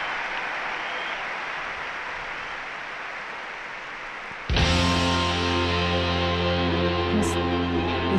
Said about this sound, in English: Huge applause all around the arena.